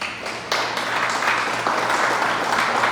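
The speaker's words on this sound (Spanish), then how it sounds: "Dele un aplauso a Dios por eso." Church congregation applauding, a brief, steady wash of clapping that swells after a quieter start.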